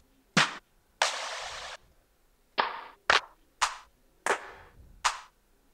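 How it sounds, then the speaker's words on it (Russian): Small, light clap samples play in FL Studio as seven separate crisp snaps at uneven intervals. Some are short and dry, a couple ring out a little longer, with silence between them. "Такие маленькие, непринужденные хлопки"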